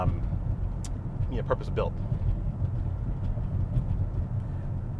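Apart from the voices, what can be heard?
BMW X5 driving while towing a trailer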